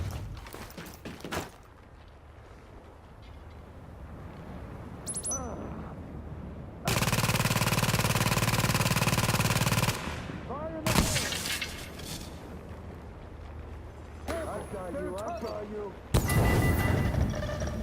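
Gunfire from a gunfight in the video game The Division, with bursts of automatic fire and scattered shots between quieter stretches, a long loud sustained burst in the middle and a voice speaking at points.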